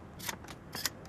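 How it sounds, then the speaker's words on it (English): Reloading a gun in the video game Onward gives two quick, faint metallic clicks and slides about half a second apart. "Reloading."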